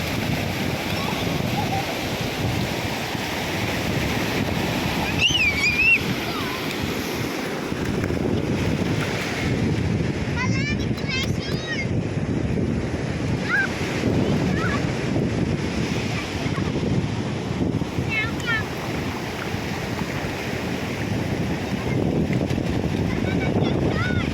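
Ocean waves break and wash up on a beach in a strong wind, a continuous rushing roar with buffeting wind noise on the microphone and a child's high calls now and then.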